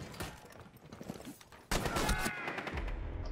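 Gunfire in Rainbow Six Siege, quiet at first and then a sudden louder burst of rapid shots that keeps going to the end.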